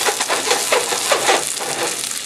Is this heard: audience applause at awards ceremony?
no